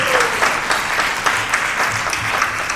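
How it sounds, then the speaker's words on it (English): Conference audience breaks into steady, loud applause, a continuous close wash of many hands clapping with faint voices underneath. "I want to give you a huge round of applause."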